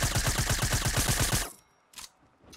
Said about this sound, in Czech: Někdo střílí.